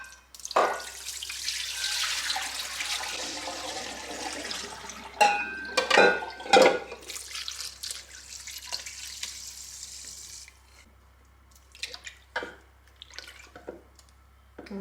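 Cold water runs from a tap while butter is being made, a steady broad rush that fills most of the stretch, broken by a few clinks and splashes near the middle before trailing off into scattered drips and knocks.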